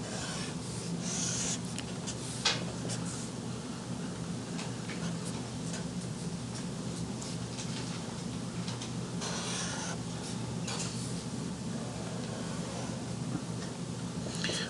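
Continuous pen scratching on paper while sketching a graph, steady and close with small tapping strokes throughout, against a constant low hum and no talking.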